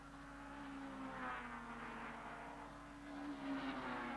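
BMW and Opel Vectra super touring cars racing at Kyalami in the 1995 South African championship make a faint, distant engine drone that swells and fades as the cars pass.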